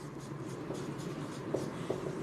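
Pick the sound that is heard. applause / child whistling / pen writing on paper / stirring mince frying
pen writing on paper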